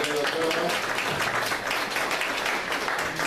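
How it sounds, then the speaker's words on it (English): A faculty meeting audience gives a dense, steady round of applause, many hands clapping at once at fairly close range throughout. "You need to give yourselves a round of applause for a job well"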